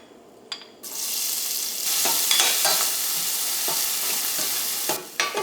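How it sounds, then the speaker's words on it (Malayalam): Onion, ginger, green chili and curry leaves sauté in hot coconut oil for a drumstick thoran, with a steady close sizzle and repeated scraping stirs that pause briefly near the end. "ഇതിലേക്ക് നമുക്ക് സവോളയും ഇഞ്ചിയും പച്ചമുളകും കറിവേപ്പിലയും ഇട്ടിട്ട് നമുക്കൊന്ന് വഴറ്റിയെടുക്കാം."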